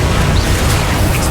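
A Confringo blasting spell detonates in the Hogwarts Legacy video game, a loud, continuous rumbling boom with heavy low end that fills the whole moment without any voices.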